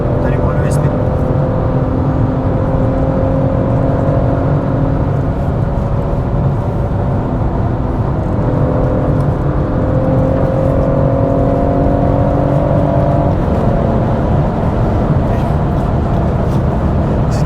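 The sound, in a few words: BMW M140i engine driving on the Nürburgring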